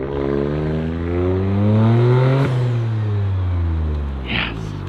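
A Toyota GR Corolla engine with a new downpipe revs up in a long rising sweep, then drops back to a deep, throaty idle with a loud, rumbling exhaust note close by.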